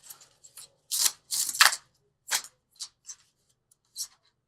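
Tarot angel cards being shuffled by hand, a series of short papery riffling bursts and soft flicks with pauses between them, close and crisp in an otherwise quiet room.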